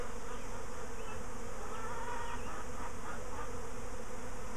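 A swarm of honeybees coating the front of a hive outdoors makes a steady, dense buzzing drone, continuous and fairly close, with no voices.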